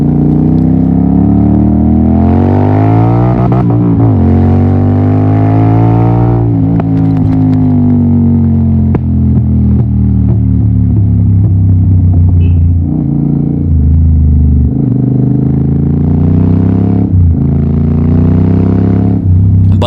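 Motorcycle exhaust revving repeatedly, recorded from a phone tucked in a rear bag while riding, loud and close, with rising and falling engine pitch swells and gear changes under steady throbbing.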